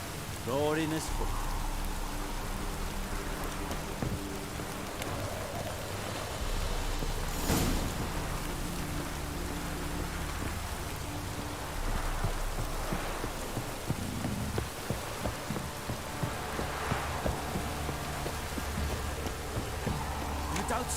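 Rain falling in The Witcher III: Wild Hunt video game, a continuous loud hiss of rain with occasional low rumbles throughout.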